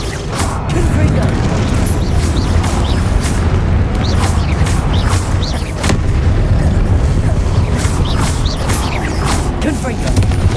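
Confringo spell blasts in the Hogwarts Legacy video game mini boss fight go off as repeated booming bursts and crackling impacts over dense continuous game noise, with speech and effects layered throughout.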